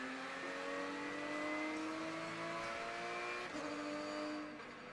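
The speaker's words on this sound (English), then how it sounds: "Sequential gear shift." Inside a Porsche race car at the Rolex 24 at Daytona, a steady engine tone climbs smoothly, then drops sharply at a quick sequential gearshift before carrying on at lower revs, loud and close with no voices.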